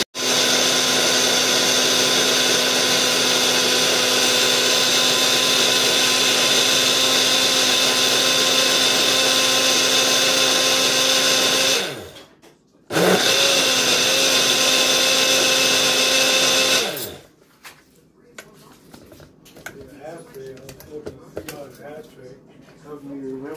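A loud blender runs steadily, mixing a keto smoothie of ice and almond milk, stops briefly, runs again for several seconds, then cuts off, leaving quiet handling and faint talk.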